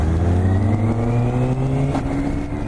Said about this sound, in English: That's why you keep hearing me revving all the time on my first few miles